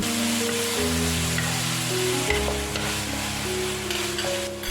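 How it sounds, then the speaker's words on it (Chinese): Pork stir-fries in a wok with soy sauce and sugar, a loud continuous sizzle broken by the scrape and clatter of stirring, close up. "略微拌炒后，加入酱油、白糖，将酱油和糖拌炒均匀"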